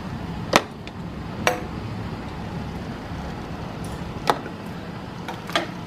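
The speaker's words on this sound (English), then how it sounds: "we're going to start spooning our beets into the bottom of the jar" A slotted spoon drops pickled beets into a glass canning jar, giving four sharp separate clinks spaced a second or more apart over a quiet room.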